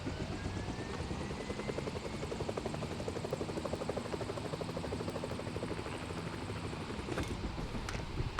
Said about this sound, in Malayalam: ഹെലികോപ്റ്റർ ഒന്ന് മാറ്റി വിട്ടോട്ടെ.